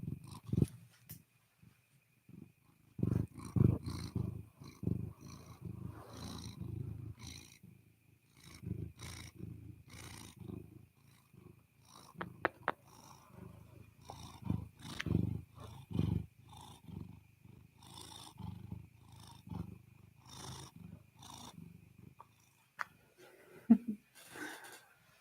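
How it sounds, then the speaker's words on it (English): Luna, a pet cat, gives soft, close purring in uneven low rumbling bursts, with quiet gaps between them. "Let's get some purrs up in here, Luna."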